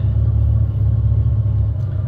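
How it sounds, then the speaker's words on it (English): A Ford Mustang GT350 runs with its exhaust valves open, giving a loud, steady, deep engine rumble heard close up inside the moving car. "I opened up the exhaust valves and I got on that car, and it was a glorious sound"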